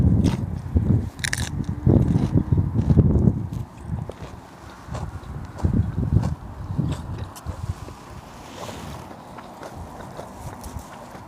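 Someone eats large mouthfuls of salmon, with close, wet biting and chewing sounds that come in uneven bursts and fade toward the end.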